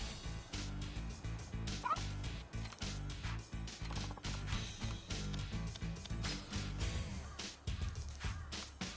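Dog barks from the dog training minigame in Yakuza 3 Remastered, a video game, sound in quick repeated bursts over steady game music, fairly loud and close throughout.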